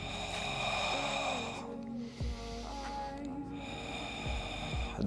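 Steady breaths drawn in and pushed out during a Pilates exercise, heard as soft airy rushes beneath continuous background music.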